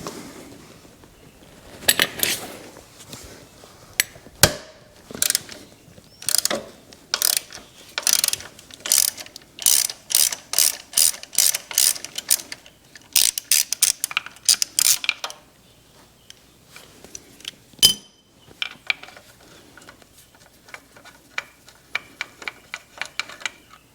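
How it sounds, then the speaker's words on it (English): A 14 mm ratchet wrench turns a nut on an SW-MOTECH engine guard fitted to a 2017 Kawasaki Versys motorcycle, giving close, sharp bursts of rapid ratchet clicks in repeated strokes with brief pauses, slowing to sparse clicks toward the end. "gonna need a couple 14 millimeter ratchets on this one"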